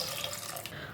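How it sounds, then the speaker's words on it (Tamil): Water pours steadily into a pressure cooker holding washed baby potatoes, a continuous close splashing stream from a tap with no talk. "தேவையான அளவு தண்ணி,"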